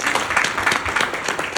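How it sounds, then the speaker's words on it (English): Crowd applause at a leadership talk, dense, steady clapping throughout, fairly loud and sustained. "Let's give him a massive round of applause."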